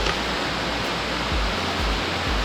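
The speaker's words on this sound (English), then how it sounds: "we can hear the falls, so hopefully we're close" Martis Mill Falls in Alabama roars as a steady, loud, broadband rush of falling water, continuous and close with no voices over it.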